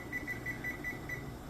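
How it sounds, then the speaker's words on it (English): A kitchen timer beeps as it is set, six short, evenly spaced electronic chirps in quick succession, faint against a quiet room. "So we're going to put the timer on"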